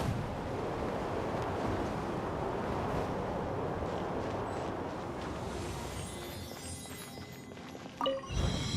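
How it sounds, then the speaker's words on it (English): A steady, roaring whoosh of a wind current in Genshin Impact fills the scene, loud and continuous before easing off near the end into quieter game sounds. "Let's ride this wind current"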